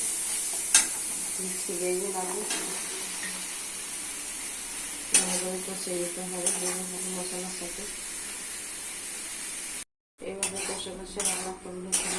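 Ground spices, chilli, cumin and coriander powder sizzle in a pan and are stirred with a utensil, giving repeated metal scraping and clinking over a steady fry, then a brief silence before stirring resumes.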